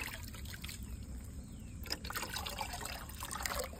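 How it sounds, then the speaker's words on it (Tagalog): River water is scooped and poured for watering plants, a steady soft trickle and splash at close range, fairly quiet, with a few sharper sloshes. "Ayan ay sumasalap po tayo dito ng tubig."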